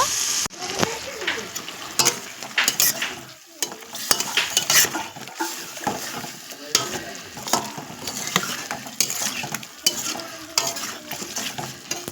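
Ash gourd curry sautéing in a pan with a steady sizzle, broken by repeated scraping strokes of a spoon stirring through the pieces, close and fairly loud throughout.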